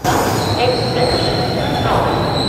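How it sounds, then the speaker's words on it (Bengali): The Ajmer–Sealdah Express rumbling loudly as it pulls away from the station, a sustained high wheel squeal running over the continuous roar, close by. "আর এই ট্রেনটি এখান থেকে ডিপার্চারও নিয়ে নিল"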